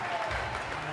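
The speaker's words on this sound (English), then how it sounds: "And the home crowd go wild." A home crowd cheering and applauding at a European Cup bouldering competition in Loverval, Belgium, a dense roar of claps and shouts with a commentator's voice over it.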